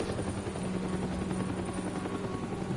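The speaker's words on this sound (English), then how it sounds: "There's a helicopter." Steady, loud whirring rotor drone of a helicopter flying in the video game Telltale Batman, continuous and close, with no talk over it.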